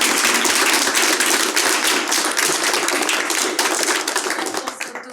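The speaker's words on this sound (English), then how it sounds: "please join me in thanking our speakers for their very important reflections and insights, and also trying to be positive in this very difficult situation with a round of applause" Dense, steady applause from a conference audience thanking speakers after a panel on the war in Ukraine, a continuous wash of many hands clapping that slowly tapers off toward the end.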